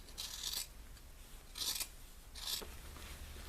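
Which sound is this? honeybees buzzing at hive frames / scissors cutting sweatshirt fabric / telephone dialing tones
scissors cutting sweatshirt fabric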